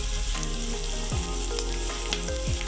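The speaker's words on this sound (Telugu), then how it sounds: "కొంచెం చక్కగా ఫ్రై చేసుకుంటాం" Chopped onions and curry leaves sizzle and crackle steadily in a hot pan of oil, close and continuous, with occasional stirring scrapes over the frying.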